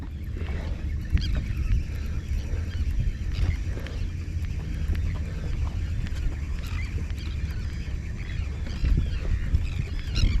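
Geese honk repeatedly near the water during a sea fishing outing, several calls scattered over a steady low background rumble, at moderate distance.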